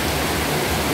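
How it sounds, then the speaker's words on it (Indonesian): Heavy rain pours down around a residential neighbourhood, a dense, steady broadband hiss filling the whole second with no let-up and no voices. "hujan deras kembali mengguyur sekitar pemukiman saya"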